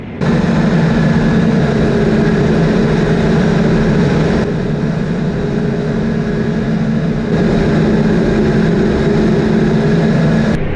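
Steady, loud engine drone of a tractor heard from inside the cab during field tillage, a constant low rumble with a slight dip in level partway through, no speech.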